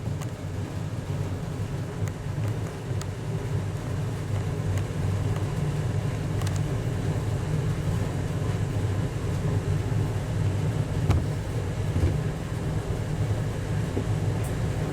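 Heaters run in a cold car workshop, a steady low droning roar that fills the room without a break, with a few faint clicks and knocks over it and no talk.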